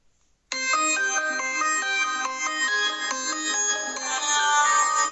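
A song plays loudly through a mobile phone's built-in speaker after its volume settings are boosted, a bright, steady melody with clear repeated notes that starts abruptly after a short silence and continues without talk.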